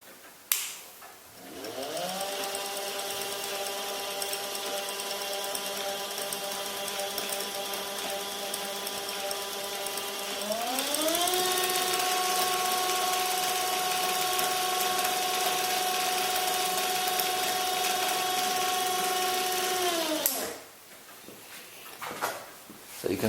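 A homemade steampunk pillar tool spins a chucked drill bit, giving a steady whirring motor hum with harmonic tones that step up in pitch midway, holds, then stops abruptly.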